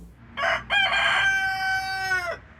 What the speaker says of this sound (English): As the rooster crows in East Bethel,